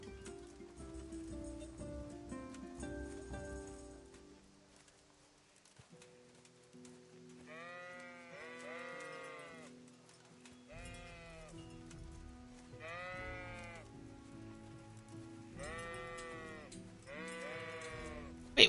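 Sheep in the video game Kingdom Come: Deliverance give several distinct bleats in a row over a quiet game soundscape with light rain, each call clear and fairly close, with no talk over them.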